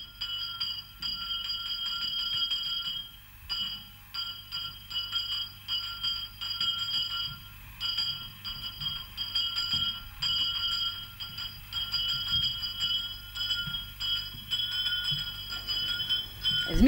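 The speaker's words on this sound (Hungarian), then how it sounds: "Ez mit jelentett ez a csengetés?" A wake-up bell rings with sustained, bright metallic tones that hold and overlap across the whole stretch, steady and moderately loud above a quiet, uneven background.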